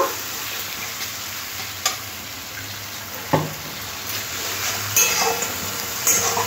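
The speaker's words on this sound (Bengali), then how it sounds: "এবার সব কিছু একসাথে খুব ভালো করে কষে নেব।" Ginger-garlic paste and spices fry in a pan for a potol masala curry, a continuous sizzle with several sharp stirring scrapes and clanks of the spoon, close and fairly loud.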